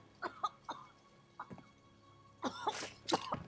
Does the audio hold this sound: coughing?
yes